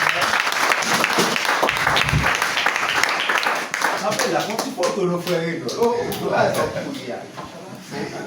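A church congregation applauds a newly consecrated deacon, sustained clapping from many hands that fades and thins toward the end as a voice speaks over it.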